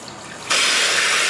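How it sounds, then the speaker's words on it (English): Hose water starts abruptly and then gushes with a steady hiss while filling a truck radiator cooling system, close and loud. "fill up our cooling system with just plain Jane hose water"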